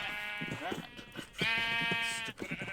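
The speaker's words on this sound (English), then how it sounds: "Sheep! Stop getting each other's way." Sheep in the Minecraft video game bleat repeatedly in wavering, harmonic cries, several overlapping close by at steady loudness while someone talks over them.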